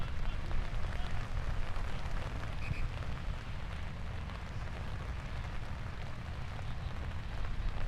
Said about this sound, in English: The rain is now coming down the heaviest it has.